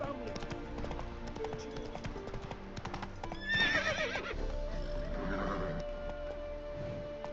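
A horse gallops in the video game The Witcher 3, with a steady clip-clop of hooves running throughout and a neigh partway through, over faint game ambience.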